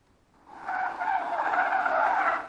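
Arrma Kraton V2 RC car with a blown differential driving, a rising, steady whirring and scraping drive noise that builds over half a second and holds loud and close.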